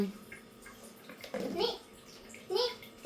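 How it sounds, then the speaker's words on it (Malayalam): Water runs steadily from an open kitchen tap while mackerel pickle is being made, a continuous hiss with voices, including a child's, speaking over it. "ടാപ്പ് പൂട്ടാതെയാണ് പോകുന്നത്"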